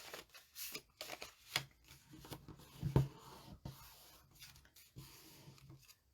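A paper card being folded by hand, soft rustling and creasing with a few sharper crackles and taps, close and quiet with no talk.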